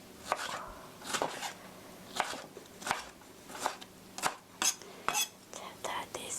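A knife cuts food into small half-centimetre pieces on a board. The strokes come in quick, slightly irregular bursts with light clatter, close and clear, with no one speaking.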